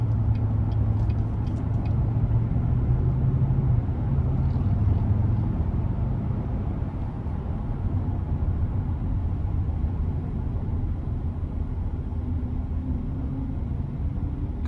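2019 Chevrolet Silverado 1500 RST Double Cab engine accelerating on the road, a steady low rumbling drone with a rising engine note early on, heard from inside the cab with no talking.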